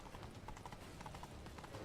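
A single horse's hooves clip-clopping fast on a street in The Witcher 3: Blood & Wine, a quick, even galloping rhythm, fairly faint and alone.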